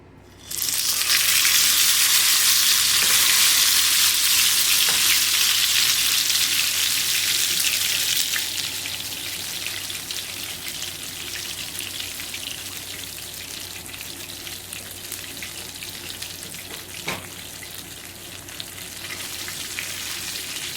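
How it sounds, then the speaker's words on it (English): Pambazo bread drops into hot oil and fries with a loud, bright sizzle that eases after several seconds into a steadier, softer crackle, broken by an occasional pop. "So now we're gonna add it to the oil."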